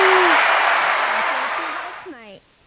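A crowd cheering sound effect on a podcast: a loud, broad roar that gradually fades over about two seconds, with a voice rising over its tail.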